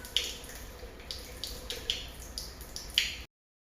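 Water runs and splashes from a tap left open, a steady close gush with regular drips and splashes and no voices, then sudden silence.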